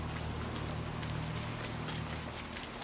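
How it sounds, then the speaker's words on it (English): Steady rain falling in the video game Hitman 3, a dense even hiss of drops that carries unbroken throughout, with no voices. "Rain, rain, nothing but rain."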